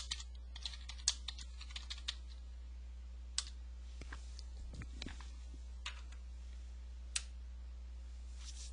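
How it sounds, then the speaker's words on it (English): Quiet, close keystrokes on a computer keyboard as a password is entered, sparse individual clicks spaced irregularly over a low steady hum. "So I'll go ahead and type in my password."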